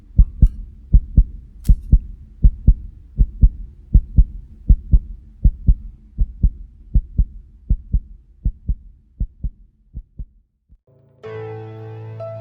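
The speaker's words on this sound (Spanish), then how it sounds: "¡Es el latido de su espantoso" Heartbeat sound effect in a Spanish horror narration: loud, steady double thumps repeating about twenty times, slowing and fading toward the end, followed by a brief burst of musical tone.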